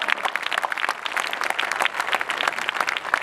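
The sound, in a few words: audience applause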